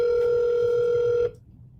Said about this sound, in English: You guys can hear the phone call good